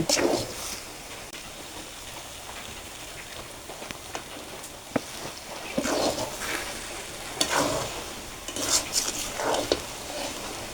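Broken rice (khud) being stirred as it fries dry in a pan, a breakfast dish cooked with mustard oil; soft sizzling runs throughout with scraping strokes of a utensil against the pan, loudest in clustered bursts near the end, with no talking.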